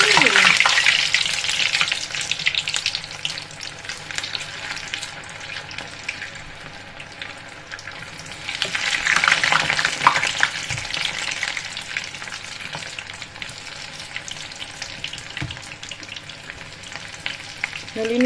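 Shanghai spring rolls fry in a pan at home, a steady close hiss and sizzle that swells and crackles over many seconds, with a few faint clinks.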